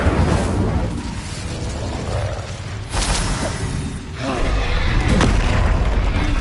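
A fire spell cast in Hogwarts Legacy gives off a broad, rumbling whoosh with a soft boom partway through, surrounded by steady game noise and effects.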